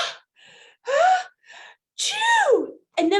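A storyteller voices a bear's enormous sneeze, a series of breathy gasping inhales building to a loud, drawn-out vocal burst, imitated by a human voice.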